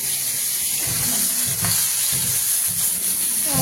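Pieces of fish and chicken frying in a pan make a loud, continuous hiss and sizzle up close, with faint utensil bumps underneath and no speech.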